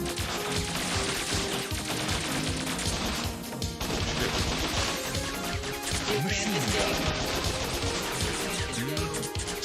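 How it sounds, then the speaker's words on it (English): Dense, continuous automatic gunfire from a machine gun and spread gun in the run-and-gun video game Bot Vice, loud rapid bursts layered over game music and explosions throughout. "Machine gun. Spread gun."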